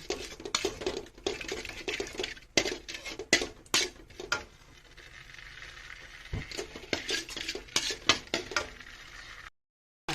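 Shrimp paste being mashed and stirred with a little water in a bowl for rice, giving irregular close scraping, tapping and clinking strokes in bursts, with a brief silence near the end.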